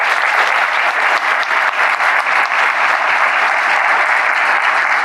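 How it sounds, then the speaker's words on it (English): Steady, full applause from a crowd at the grand opening of a children's hospital play zone, dense and even throughout, heard alone without talk. "So a round of applause."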